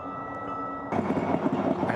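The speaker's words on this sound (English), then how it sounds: "I don't think I've ever seen an RTD train approach the station without the bells before." A Denver RTD light rail train pulls into a station with no bells sounding; a broad rumble of wheels and motors swells in suddenly about halfway through and stays loud and steady, with some faint background murmur.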